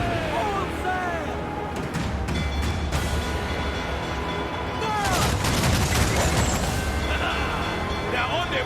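Ship cannon and mortar volleys rumble in a naval battle in Assassin's Creed IV: Black Flag, with repeated booming blasts and crackling fire under a dense mix of shouting crew voices and battle noise.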